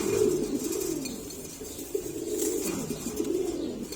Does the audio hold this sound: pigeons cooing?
yes